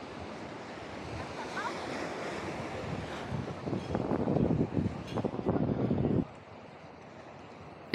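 Surf on a beach in Ibiza, Spain, washes in as a broad, rushing roar that swells over several seconds, with wind buffeting the microphone, then drops off sharply to a quiet background near the end.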